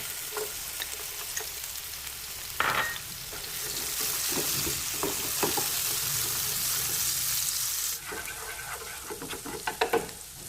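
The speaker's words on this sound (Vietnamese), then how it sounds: "chừa khoảng chừng 3 muỗng canh dầu ăn. Mình vào phi." About three tablespoons of cooking oil sizzles and crackles in a pan as tamarind crab is prepared, a steady bright frying hiss with scattered pops and stirring clatters, close up and without talking.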